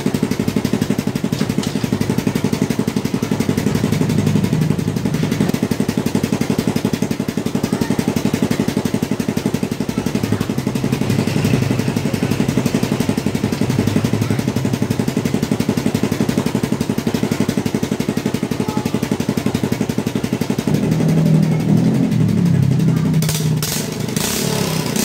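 A flood-damaged motorcycle engine runs continuously at a steady idle, loud and close, with a mechanical clatter throughout and no voices.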